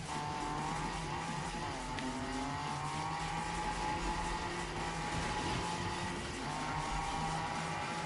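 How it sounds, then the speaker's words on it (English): A car tries to drift in the racing video game Need for Speed (2015), its engine droning steadily with tire squeal rising and falling over it, loud and continuous with no talking. "So attempt to try to drift with this car."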